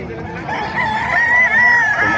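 A gamefowl rooster crows at the Bocaue market, a drawn-out call rising over a busy backdrop of other fowl and crowd noise, fairly close and steady for a couple of seconds.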